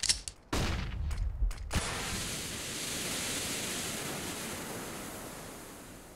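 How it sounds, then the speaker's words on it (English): A smoke grenade goes off in the game CS:GO: a few sharp knocks, then a continuous broad hiss of pouring smoke that holds steady to the end, with no voices. "I'm throwing smoke."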